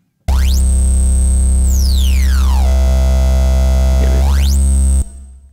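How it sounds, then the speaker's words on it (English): Loud, buzzy synthesizer drone with diode-type distortion from the Sugar Bytes Cyclop iPad app, a piercing high tone that sweeps down, holds, then climbs back up before cutting off. "It's diode type distortion"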